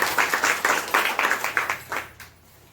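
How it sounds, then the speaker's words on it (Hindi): Loud, rhythmic bursts of clapping from a group at a gathering, roughly a dozen quick swells over two seconds before fading to quiet room tone. "एक बार अपने लिए जोरदार ताली।"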